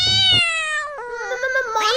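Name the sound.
cartoon cat meowing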